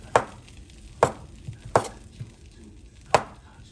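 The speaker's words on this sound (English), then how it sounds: "Then you go back here and slice up." A knife slicing through a sandwich on a board: four crisp, separate cuts at an uneven pace, close and clear over a quiet background.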